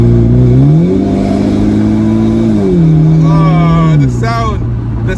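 A BMW 1 Series E88 with an aftermarket exhaust, its engine revving loud and close, pitch rising, holding and falling as it accelerates and shifts, while someone talks over the end.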